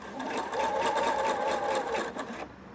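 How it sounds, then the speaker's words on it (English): A Pfaff Quilt Expression 4.2 sewing machine top stitching vinyl runs in one steady motorized whirr with rapid needle clatter for about two seconds, then stops abruptly. No one talks. "you do have to top stitch vinyl as well"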